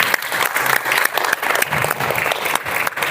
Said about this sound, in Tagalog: Bigyan natin ng malakas na palakpak si Lord.